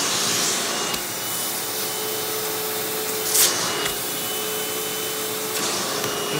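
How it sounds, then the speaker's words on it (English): A Hoover Windtunnel bagless upright vacuum cleaner, model U5786-900 Anniversary Edition, runs steadily with its hose drawing suction. The motor keeps up a loud, continuous whoosh, with a short sharper rush of air near the middle. "When the vacuum is put into its upright position, the mechanical valve actually shuts all the suction going to the head, and everything will go through your hose."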